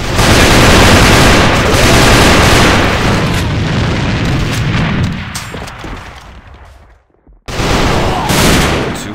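Grenades exploding in the shooter game Alliance of Valiant Arms during a competitive match: loud, dense booms overlap with gunfire, fade briefly to near silence, then return just as loud.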